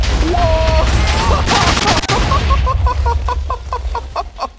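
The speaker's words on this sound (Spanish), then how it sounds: "¿Estás listo para la explosión?" Explosion from a Minecraft creeper mod game fires off as a loud burst of blasts, followed by a rapid series of sharp clicking pops that fade out over a few seconds.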